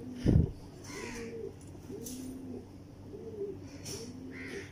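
Teddy pigeons, a pair kept at home, give soft low coos in a few short repeated phrases, close by, after a brief loud thump at the start.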